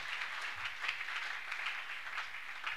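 A church congregation applauds in a dense, steady wash of many hands clapping, moderately distant and continuous throughout.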